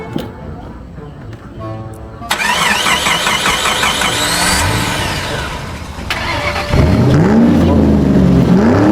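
A car engine is started and left warming up, cranking briefly before catching and settling into a loud idle with revs rising and falling, close by, with voices talking over it.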